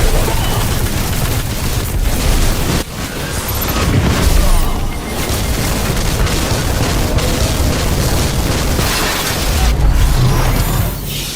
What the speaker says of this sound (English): My grenade got stuck on the roof.